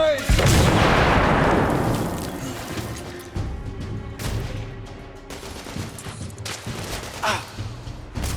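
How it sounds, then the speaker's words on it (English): A grenade in The Order: 1886 goes off with a loud, close blast that rolls and fades, followed by scattered gunfire and crashing in a street firefight. "Grenade!"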